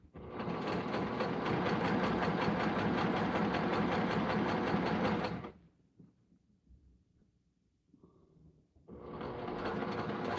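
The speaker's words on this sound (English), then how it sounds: "I'm just going to start stitching right on the top of that line" A sewing machine stitches binding onto a placemat in a steady, rapid mechanical whir, stopping abruptly for a few quiet seconds of faint handling noise before starting up again.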